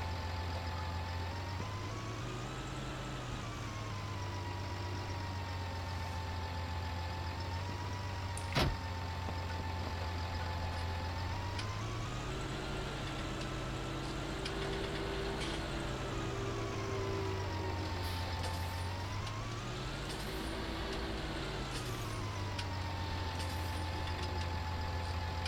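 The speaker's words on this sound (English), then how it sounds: "Not keen on this tractor, man, it sounds terrible." A tractor engine in Farming Simulator 19 drones steadily throughout, its pitch rising and falling in slow cycles as it revs, with a sharp click partway through.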